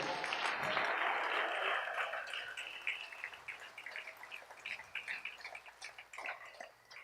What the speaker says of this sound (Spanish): Denle un aplauso al Rey que Él vive, aleluya.